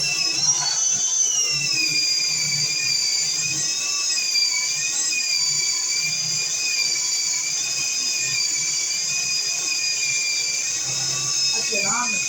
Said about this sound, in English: You drill in the middle of the stud.